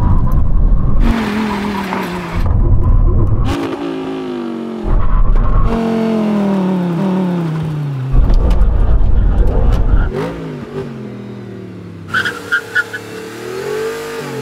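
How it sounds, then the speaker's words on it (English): Audi R8 cars in a 100 mph emergency brake test: engines roar and rev in bursts, pitch sweeping down as the cars slow, with chopped gaps and faint squeals near the end. "brake test, 100 miles an hour. When we reach the cones, full emergency stop."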